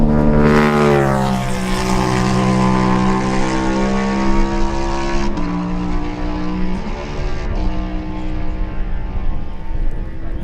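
A Suzuki racing motorcycle in a lightweight class road race roars past close by, its high-revving engine note sweeping down in pitch as it passes, then a second rising and falling whine follows as it fades.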